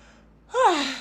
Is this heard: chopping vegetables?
no